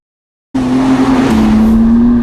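Naturally aspirated Porsche GT3 sports car engine under way, starting abruptly and holding a loud, sustained engine drone with a steady strong hum, close and alone without speech.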